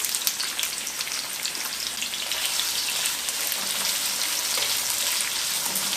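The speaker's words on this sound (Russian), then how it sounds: "Наливаем масло, разогреваем его и отправляем сюда лук." Chopped onion sizzling in hot oil in a deep thick-walled pot, a steady crackling fry with fine popping, close and even throughout with no talking.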